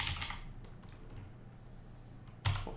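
Short bursts of computer keyboard typing as a git command is entered, quiet and close, with a brief gap before a final sharper key press.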